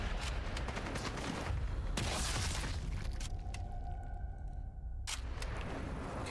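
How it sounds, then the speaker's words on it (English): Gunshots in the shooter game Sniper Elite 5, a few loud broadband cracks at the start and around the two-second mark, then a sustained ringing tone, with a last sharp shot near the end. "Okay, 2 shots."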